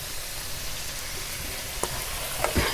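Chicken kosha frying in a pan, a steady close sizzle with a few sharper pops and spatters near the end, no voices.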